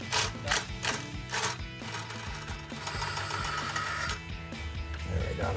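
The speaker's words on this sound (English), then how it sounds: "had to go to a bigger impact gun here" Larger impact gun rattling off an exhaust bolt on a Dodge Challenger HEMI, heard as several short, sharp hammering bursts up close over a steady background of shop noise.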